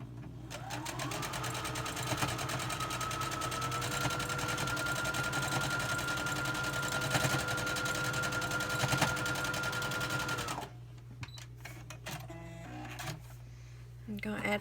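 A sewing machine stitches a scant seam on a quilt block, a steady close-up motor hum with rapid needle chatter that runs continuously for about ten seconds, then stops, leaving quiet handling noises.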